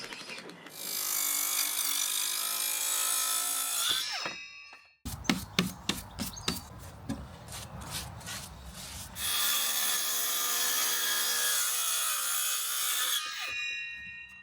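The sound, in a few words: trimming wooden shed floorboard overhang, sawing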